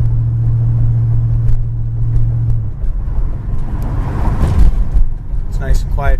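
1972 Oldsmobile Cutlass with a 350 Rocket four-barrel V8 and turbo 350 transmission, exhaust heard from inside while driving: a steady low rumble and drone with a tonal hum fading partway, fairly loud and continuous.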